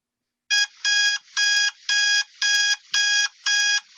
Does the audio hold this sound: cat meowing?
no